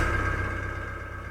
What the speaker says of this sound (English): Go turn the ignition on, put the engine on, try that,